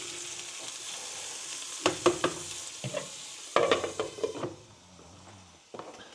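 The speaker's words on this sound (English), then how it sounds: "I'm going to cook them off for about 4 minutes." Frozen onions fry in a pan, a moderate sizzle broken by sharp clattering stirs of a utensil against the pan in short bursts, fading quieter toward the end.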